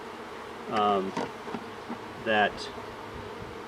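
Honey bees buzz around an in-hive Apis Rapid round feeder holding sugar syrup, two loud close buzzing passes standing out over a quieter hum, with a voice speaking briefly.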